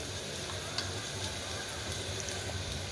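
Chopped onion frying in a pan gives a steady, close sizzle with faint crackles running throughout and no voices over it.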